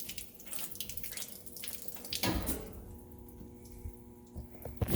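Antifreeze trickles and splashes from a leaking pressure washer line fed from a bucket, a steady near watery flow with intermittent dribbles and a brief louder gush midway.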